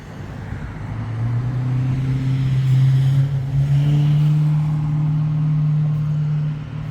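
A supercharged Holden HQ one tonner engine revving through a custom exhaust, a deep, loud, close rumble that rises to a sustained high-rev drone and then eases off, with no talk.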